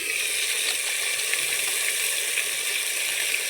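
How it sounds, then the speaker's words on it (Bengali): Fish fries inside a rice cooker with a steady, dense sizzle and hiss that stays even and close throughout, with no voices. "আমার রাইস কুকারে মাছ ভাজা চলছে।"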